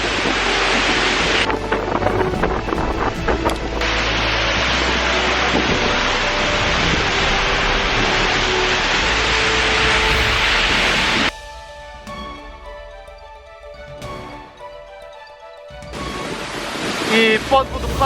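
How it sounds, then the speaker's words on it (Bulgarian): Huge waterfall roaring as someone walks beneath and behind it, a loud dense rushing wash of spray that suddenly drops away near the end before building back up. "И минаваме под водопада, който е супер голям."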